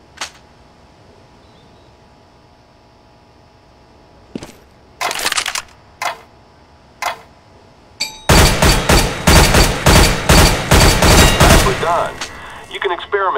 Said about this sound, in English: High-caliber firearms can penetrate materials. Hit the target through that piece of wood.